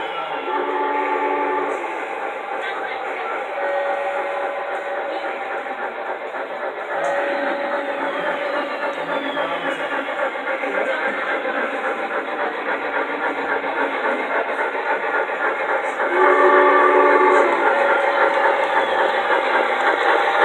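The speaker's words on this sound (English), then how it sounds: "Comes another train." A train rumbles past steadily for the whole stretch near Old Town, San Diego, a continuous loud roar of wheels and engine with brief tonal swells, fairly close.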